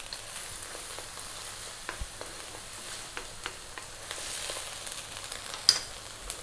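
Garlic ginger paste frying in hot oil for a Bengali carp fish curry, a steady soft sizzle with a few sharper crackles and light stirring clicks, close and moderately quiet, with no voices.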